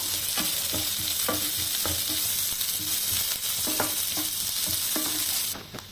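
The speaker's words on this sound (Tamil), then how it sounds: "கடலைப்பருப்பு லைட்டாக தகுந்த உடனே நமக்கு வெங்காயம் போடலாம் அந்த வெங்காயம் நல்லா வதங்கட்டும்" Onions and chana dal sautéing in hot oil in a pan for a radish masala fry, a steady close sizzle broken by repeated stirring scrapes.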